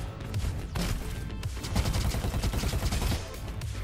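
Rapid bursts of gunfire and explosive pops come from an AK-47 launching grenades in the robot roguelike shooter Robo Quest. The shots form a dense, continuous barrage for several seconds, loud and with no voices.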